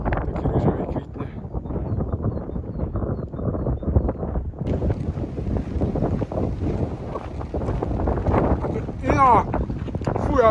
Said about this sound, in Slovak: Teraz fúka 33 km za hodinu a v nárazok to je 60. To je extrém.